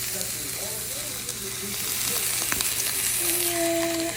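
Beef searing in a hot pan, a loud continuous sizzle with a few sharp utensil taps and a faint tone near the end, no talking.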